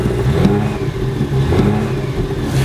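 A petrol Audi SQ5 of the newer body shape revs hard and close up, with three throaty blips rising over a steady rumbling idle.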